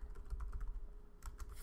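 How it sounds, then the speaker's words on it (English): A quick burst of typing on a computer keyboard to enter a search term, soft clustered key taps over a low background hum, near and fairly quiet. "So let's type in management"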